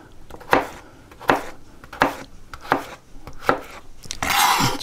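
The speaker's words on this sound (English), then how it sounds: "we're gonna take our potatoes, and we're gonna just cube them into like little 1/2-inch cubes" Knife chopping small potatoes into half-inch cubes on a cutting board, five sharp, evenly spaced close chops followed by a brief scraping swish at the end.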